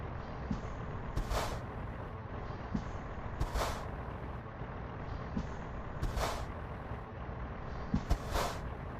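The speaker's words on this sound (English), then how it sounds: "I'm going to intentionally drain the air" Compressed air is drained from a truck's air brake system in a series of sharp hissing bursts every couple of seconds, with a low engine idle rumbling underneath.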